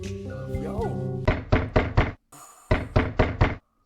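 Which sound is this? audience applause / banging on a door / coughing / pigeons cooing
banging on a door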